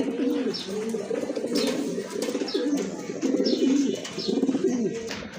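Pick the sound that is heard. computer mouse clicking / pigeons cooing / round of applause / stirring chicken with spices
pigeons cooing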